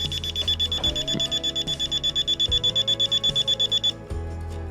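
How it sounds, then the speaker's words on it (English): An IQ Pro alarm keypad beeps rapidly and repeatedly while zones enroll, a loud, regular string of short electronic tones that stops abruptly near the end. "the keypad went crazy there for a minute, but basically it was just beeping for all of the zones that were enrolling"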